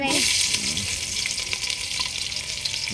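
Chopped onion frying in a pan in a village home kitchen, giving a loud, close, continuous sizzle with crackling bursts throughout.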